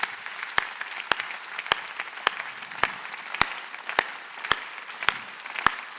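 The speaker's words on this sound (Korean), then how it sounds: "깨달은 사람만 박수 치라고" A church congregation claps in unison, about ten sharp, evenly spaced claps roughly every half second over a low murmur of the room, with no talk over them.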